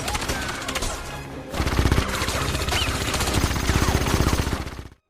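A gunfire shootout in a James Bond film: rapid bursts of automatic shots and single cracks, loud and close, continuing with dense rhythm after a brief lull and cutting off abruptly.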